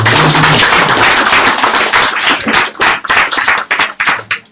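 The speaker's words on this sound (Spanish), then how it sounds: "Una niña aplaude, merece que la secundemos" A church congregation joins a little girl's clapping during a service, close, loud applause that starts dense and thins into separate sharp claps near the end.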